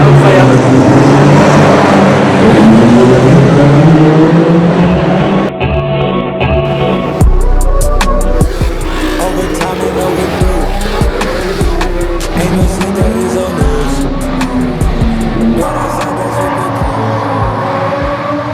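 Loud race car engines at the Monaco Grand Prix scream past in waves, with high revving whines, tire squeal and constant crowd-level roar close by.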